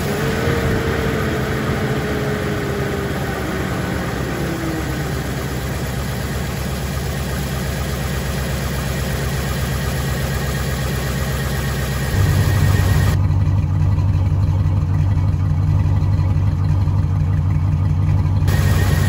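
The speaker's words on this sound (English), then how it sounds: "Let's go ahead and start the car up and see how everything looks." A Chevy Trailblazer with newly replaced catalytic converters idles in a garage, a steady low engine drone running throughout that deepens and grows louder partway through before settling into an even idle.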